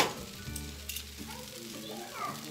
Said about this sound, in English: Y luego aquí estamos grilling the onions.